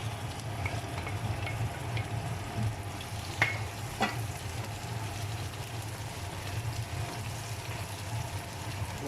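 Onions sizzle quietly in a pan as they fry, with a low continuous hiss and a couple of brief sharp clinks of utensils partway through.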